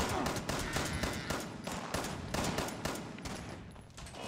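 Rapid automatic gunfire from the video game Fallout 76 rattles on continuously, loud, dense bursts with a slightly uneven rhythm.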